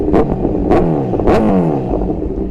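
A Honda CBR 1000 motorcycle engine revs close up in three sharp, loud throttle blips, each rising and falling quickly.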